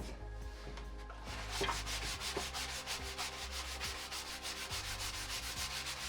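A wooden bo staff being sanded smooth by hand, with quiet, steady back-and-forth rubbing strokes in a close, repeating rhythm.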